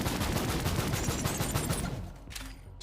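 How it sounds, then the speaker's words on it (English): Rapid stream of small 8-bit style gunshots in Borderlands 3, a fast rattling burst of blips that runs for about two seconds and then stops, loud and close with no talking. "Shooting your 8-bit fucking gun."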